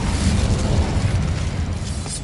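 A burst of the Incendio fire spell in Hogwarts Legacy, cast while searching for a box of letters: a dense, roaring whoosh with low rumble, sustained and loud across the whole moment, no talk.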